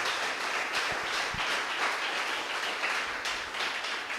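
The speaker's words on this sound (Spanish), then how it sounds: "Dele un aplauso al Señor, mi hermano" A church congregation claps praise to the Lord during a sermon, a fairly quiet, steady wash of applause heard from a distance for a few seconds.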